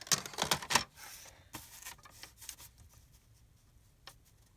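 Paper being cut for Easter embellishments and ATC cards, heard up close as a quick burst of crisp snips and rustles followed by softer, sparser slicing and paper handling, with no talk.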